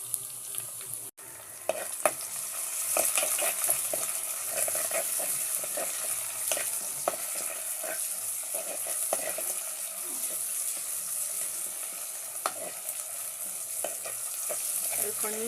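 Tomato, green chili and curry leaves frying in oil, a continuous close sizzle with crackling pops throughout and occasional stirring.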